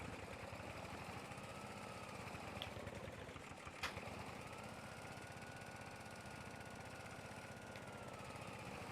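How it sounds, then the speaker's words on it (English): A tractor engine in Farming Simulator 22 drones steadily and loudly under heavy load, a continuous close rumble with no voices. "Come on, tractor, you could do it."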